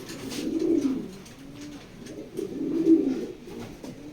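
Racer pigeons cooing close by, two low, rolling coos about two seconds apart over quiet background.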